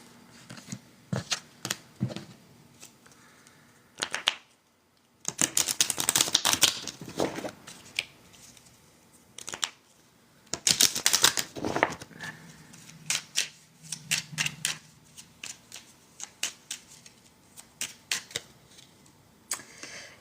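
A deck of cards is shuffled in quick riffling bursts separated by pauses, close and crisp, with several distinct shuffles.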